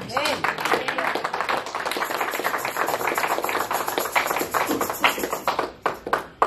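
A church congregation breaks into applause, dense clapping filling the room throughout and thinning toward the end, with voices mixed in.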